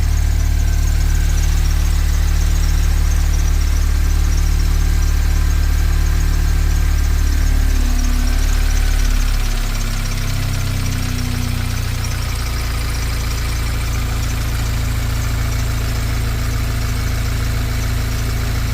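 A Volkswagen Golf 7 R engine idles steadily just after a restart with the oil still cold, a continuous low rumble that settles and drops slightly in pitch partway through, close and alone with no talk.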